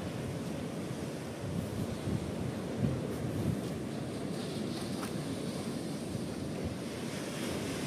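Ocean waves breaking on a beach, a continuous soft rumbling wash with wind noise on the microphone, heard at a moderate distance with no voices.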